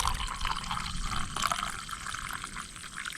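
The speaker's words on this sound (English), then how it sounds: "you can just pour it right out of that" Brewed coffee pours from a pot outdoors in a short, close trickling stream, liquid splashing lightly and unevenly as it flows into a cup.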